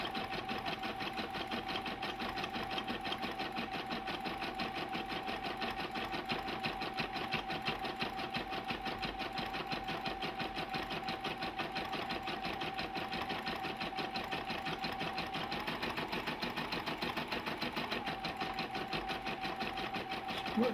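A Brother PB6800 sewing and embroidery machine stitching a cross-stitch pattern hums with a rapid, regular needle chatter that continues unbroken for about twenty seconds, quiet and close, with no one speaking.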